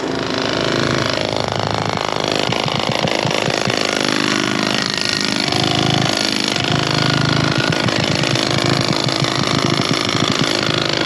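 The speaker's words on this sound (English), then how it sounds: "hydraulic tamper" A hydraulic tamper runs loud and close, a steady engine drone overlaid with rapid rhythmic pounding bursts that pause and resume across the stretch, with no voices.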